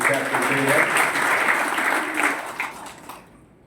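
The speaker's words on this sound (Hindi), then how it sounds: "उनके लिए आप तालियां बजाएं" Seminar audience hosted by an educational trust claps in a dense, sustained round of applause that gradually thins and fades out near the end.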